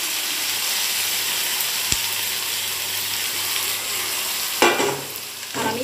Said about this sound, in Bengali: এবার আমি এই ম্যারিনেট করা মাংসটা দিয়ে দেবো